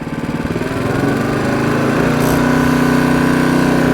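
A Honda HSS724A snowblower engine revs up from idle to a loud, steady, high droning whine that stays close and continuous and has no talk over it.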